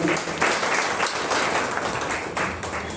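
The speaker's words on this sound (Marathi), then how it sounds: "सर्वांनी टाळ्या वाजवून" An audience at a felicitation ceremony claps in a dense, sustained burst of applause that stays loud and even throughout.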